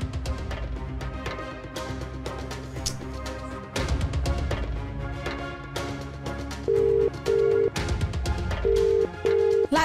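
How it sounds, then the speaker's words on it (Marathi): A telephone ringback tone while calling Latika, sounding as short repeated tone pulses in pairs near the end, laid over dramatic background music. "तुम्ही जरा लतीला फोन लावा बरं."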